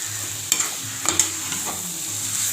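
Curry leaves are stirred into masala frying in a pan, a soft sizzle running under a few scraping clinks of the spoon against the pan.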